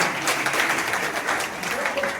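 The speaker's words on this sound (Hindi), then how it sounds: "जोरदार ताली।" A crowd at a block-level school quiz competition applauds a prize-winning high school student, giving a dense, continuous wash of clapping close by.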